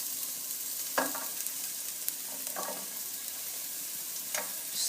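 Garlic frying in hot oil while a wooden spoon stirs it, giving a steady sizzle with a few distinct scraping strokes against the pan and no talk.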